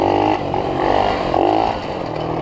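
Engine of a rough-running dirt bike revving, a buzzy, rasping drone that rises and dips in a few uneven surges over a couple of seconds, close and loud, with no talking.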